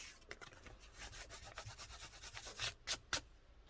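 Glue being smeared and rubbed across a paper notebook page for a junk journal, a soft steady scraping and rubbing that runs continuously, close up and fairly quiet, with a couple of sharper strokes near the end and no talking.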